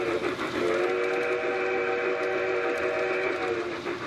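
A small backyard model train rumbles steadily along a cement path while a sustained, multi-toned whistle blows throughout, close and fairly loud.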